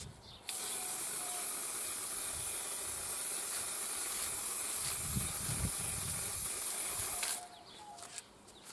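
An aerosol spray can releases one continuous hissing burst of about seven seconds, loud and close, then stops abruptly.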